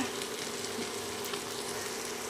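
Chopped cabbage goes into a hot pan of oil and spices for a Bengali cabbage curry, giving a steady, close hiss and sizzle that holds evenly throughout.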